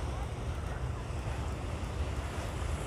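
Waves wash along the Lake Michigan shore near Chicago in a constant, soft broadband rush mixed with low wind rumble, steady and moderately faint with no talking.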